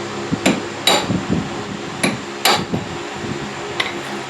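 A brass hammer strikes a part on a Mopar car's front end during a rebuild: about five sharp, close metallic blows at uneven intervals, with softer knocks and clinks between them.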